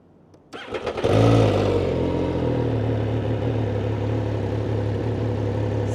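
A 2015 MV Agusta motorcycle with about 7,100 km on it cranks briefly, then fires up with a sharp rise in revs and settles into a loud, steady, close-up idle.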